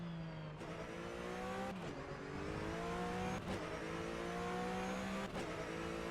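A flat-six race car engine in rFactor 2 roars continuously around the Palm Springs circuit, revving up and dropping sharply at each of four gear shifts, steady and loud with no talk.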